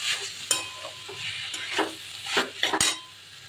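Vegetable ghonto stirred in a pan, with scattered spoon scrapes and clinks against the metal over a soft sizzle, close and fairly quiet.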